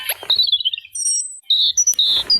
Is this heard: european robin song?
yes